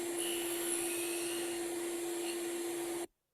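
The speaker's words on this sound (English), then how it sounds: "Adjust the blade and finish cutting the tenons." A Sears Craftsman radial arm saw runs steadily while cutting tenons on the ends of a board, a loud continuous whine with a fixed tone that stops abruptly after about three seconds.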